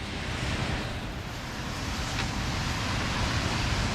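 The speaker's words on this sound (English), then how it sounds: "in the pouring rain" Steady broadband hiss of heavy rain pouring down outdoors, constant and close, with low rumble underneath and no voices.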